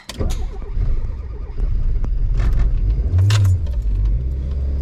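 A Tofaş Toros car low on fuel, its engine rumbling steadily and loudly up close, with a jangle of keys and some rattling and clicks over the running motor.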